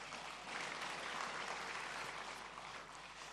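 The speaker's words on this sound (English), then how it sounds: "If you want to clap for the youth, clap for us." Audience applause fills a lecture hall at an inauguration lecture at the International Conference Centre, a dense, steady wash of many hands clapping throughout, loud and continuous.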